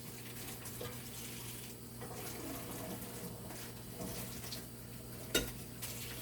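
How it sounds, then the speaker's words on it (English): Hands washed under a running kitchen tap while preparing beef kidneys, a soft steady stream of water splashing with a low hum behind it, faint and close, with a brief knock near the end. "I just wash my hands"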